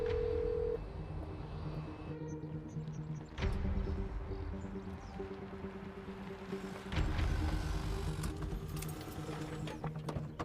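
A telephone being dialed for a call in a film, with short electronic key tones sounding one after another over a low engine-like hum and mechanical background noise.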